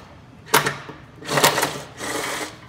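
A handheld Earthquake impact wrench unscrews the rear running board bolts on a 2017 Jeep Wrangler, giving three short, loud bursts of buzzing, rattling hammering separated by brief pauses, with no one talking.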